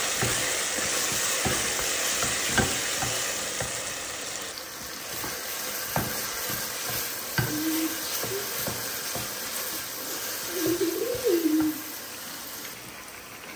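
Arvi (taro root) masala fries in a pan with a steady, close sizzle, interrupted by light clinks of a utensil stirring and a few faint squeaks.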